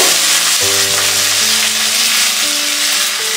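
Tomatoes fry in a pan for a spicy green chutney with chana dal and cumin, a loud continuous sizzle under a tonal background hum that shifts in pitch, with no talking.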